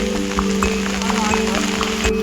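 Rain falls over village fields and paths on a rainy day, a steady patter and hiss under a constant low hum, with scattered sharper drops or footsteps, fairly close.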